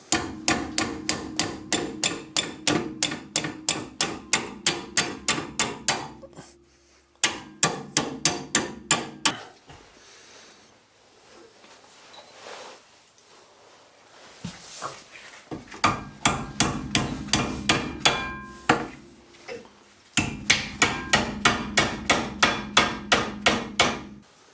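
Repeated metal-on-metal hammer blows strike a 22 mm wrench held on the brake caliper of a 2006 Audi A3's rear wheel. The strikes come in rapid, loud, ringing bursts, with a quieter pause of shuffling in the middle.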